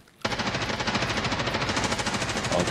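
Sustained automatic gunfire from the video game Escape from Tarkov starts abruptly and keeps a rapid, even rhythm. The stream of shots stays close and loud with no speech over it.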